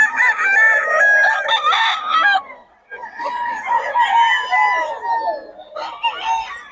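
Boss Fly's chickens and roosters crow loudly and close in long, strained calls, with a brief pause before more crowing and clucking.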